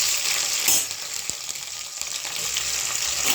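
Onions frying in a pan with garam masala spices for a meal maker biryani, a steady close sizzle with a few scraping clicks of stirring and no talking.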